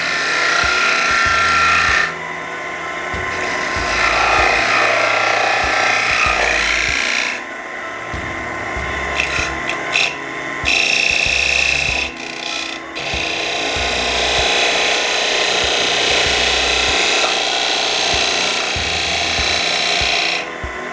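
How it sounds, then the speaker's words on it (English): A woodturning gouge hollows the inside of a wooden tippe top spinning on a lathe, giving a continuous loud scraping, rasping cut in long stretches broken by short pauses, with no talking. "You want to follow the contour of the outside shape as much as you can when hollowing."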